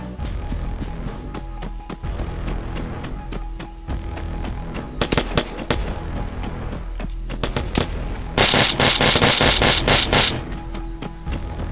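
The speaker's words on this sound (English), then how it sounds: "He's causing explosions to happen." Gunfire and explosions from the military shooter game Argo: rapid bursts of shots crackle throughout, then a louder, dense barrage of blasts erupts near the end.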